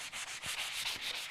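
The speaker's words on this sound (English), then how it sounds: "So I'm just sanding this," Sandpaper rubbing over a painted ornament tile in quick back-and-forth strokes, a rhythmic scratchy rasp of about eight close, fairly loud passes, with no voices.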